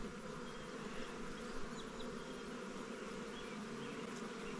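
Honey bees buzzing steadily at a nucleus hive, a dense close hum that fills the whole stretch without pause, no voices.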